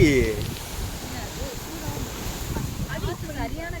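Steady wind rushes and buffets the microphone outdoors, with a voice speaking faintly underneath.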